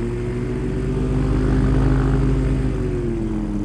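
A small propeller plane with a steerable nose wheel taxis on the ground, its engine and propeller giving a loud, continuous droning hum that stays steady throughout, with no talk.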